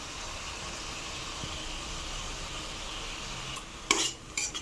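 Ground spice paste of Kashmiri chilli, coriander, cumin and turmeric fries in a pan for a Bengali chitol fish kalia, a steady low sizzle with a few metal spoon scrapes and clinks near the end.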